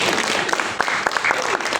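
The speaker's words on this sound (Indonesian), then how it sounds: "Tepuk tangan buat Tuhan Yesus." A church congregation claps together, a dense burst of hand claps with voices mixed in underneath, loud and close for a couple of seconds.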